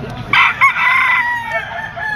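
A white Kelso gamefowl stag with white legs, for sale at a pet market, lets out one close, loud crow lasting about a second, with a brief cluck just before it and light background noise.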